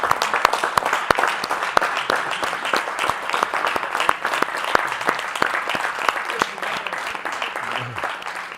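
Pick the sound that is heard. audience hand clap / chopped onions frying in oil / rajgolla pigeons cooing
audience hand clap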